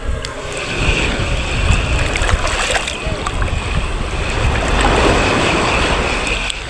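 Steady wash of ocean surf with waves rolling in, close and fairly loud, and wind over it all.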